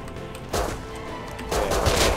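Two loud gunshot bursts from the Rust survival game, roughly a second apart, each a broad crack followed by a short rumbling tail, with no one talking.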